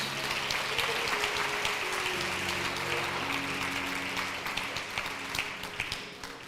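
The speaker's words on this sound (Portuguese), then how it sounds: "Você pode aplaudir ao Senhor por isso?" A church congregation applauding during a sermon, steady clapping that sounds somewhat distant and gradually thins out over several seconds, with faint tones underneath.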